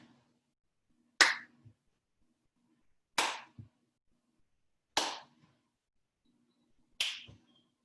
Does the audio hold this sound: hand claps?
yes